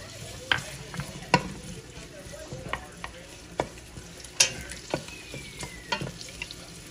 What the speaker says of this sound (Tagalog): Ginigisa ko yung mga ingredients niya muna. Yung onion at garlic para mabango.